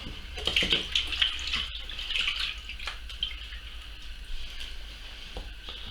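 A freshly plucked pheasant is rinsed under a running tap, water splashing and trickling nearby with uneven spurts and handling noises, fairly quiet overall with no talking.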